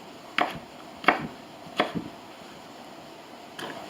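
A knife dices sweet peppers on a cutting board, giving three sharp, evenly spaced chops followed by a softer fourth, close and clear, with no voices.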